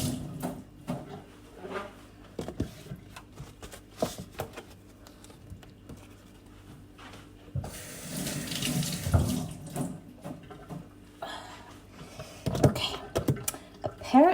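Tap water runs into a sink while onions are washed under it, a close, uneven splashing and pattering that swells louder midway with small knocks and handling noises.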